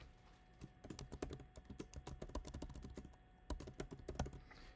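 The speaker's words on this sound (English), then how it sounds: "Here, I'm just going to type it out." Keys on a computer keyboard are typed in quick, irregular bursts of crisp clicks while a list is entered into spreadsheet cells. The typing is close but fairly soft, with no talking.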